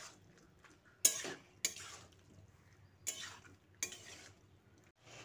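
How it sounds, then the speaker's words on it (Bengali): Bottle gourd being stirred with sour yogurt in a pan: several separate scraping strokes of a spoon against the metal, with quiet gaps between them and no talking. "তারপর এগুলোকে লাউয়ের সঙ্গে ভালো করে মিশিয়ে নিচ্ছি।"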